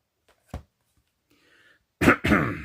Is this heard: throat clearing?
yes